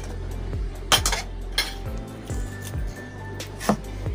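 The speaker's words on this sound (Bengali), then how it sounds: "আলুটাকে একটু ভালো করে মেখে নিই" Boiled potatoes being mashed by hand in a bowl for green fuchka filling, with soft squishing and repeated clinks of the bowl and utensils, close and fairly loud, no talking.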